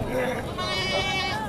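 Goats bleat on a goat farm under a man's speech, a wavering animal cry rising over the talk at moderate distance.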